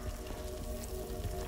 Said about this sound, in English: rain inside of a building where there's a fucking ceiling